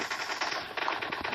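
Rapid automatic gunfire in the PUBG battle royale game, a dense run of rattling shots that carries on without pause, loud and close with no talking.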